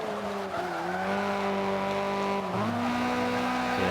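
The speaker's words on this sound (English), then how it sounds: "So I hit the brakes and you saw it slide out and it's still sliding out." Tires skid and squeal under hard braking of a front-engine rear-wheel-drive car in Forza 5, a sustained loud tonal screech that wavers and drops in pitch over engine noise, with no talking.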